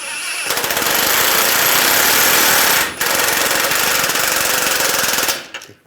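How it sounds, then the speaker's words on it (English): An impact wrench tightens the tie rod nut on a 2011-2018 Ram 1500, hammering loudly and continuously in two close bursts separated by a brief pause, with no speech. "Then we're going to tighten this up."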